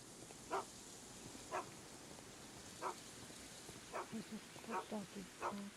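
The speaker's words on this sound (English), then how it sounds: "The dog that is barking isn't Toby, it's actually a dog that's on the other side of the fence." Intermittent barks from a dog behind a fence in a Sherlock Holmes game, sounding somewhat distant, six spaced yaps over steady rain-like background hiss.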